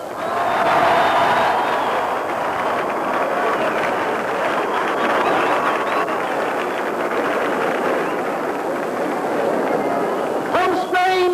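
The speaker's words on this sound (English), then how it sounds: "have a big round of applause for a couple of just arrived great friends of Gibraltar, Lord and Lady Merrill" A large outdoor crowd at the Gibraltar National Day celebration gives a long, dense round of applause for arriving guests Lord and Lady Merrill, with a voice carrying over the clapping.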